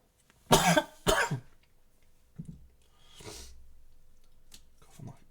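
A person lets out two sharp, loud coughs in quick succession, followed by a few quieter throat-clearing hacks and breathy sounds, close and alone.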